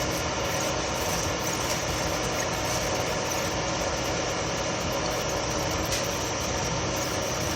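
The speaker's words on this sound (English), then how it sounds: "I'll go and get that compressor and switch it off." An air compressor runs steadily in a workshop, a constant broadband motor drone and hiss at a moderate level that continues unbroken throughout, with no voices.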